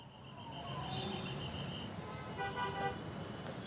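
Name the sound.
road traffic at Chilla border, Delhi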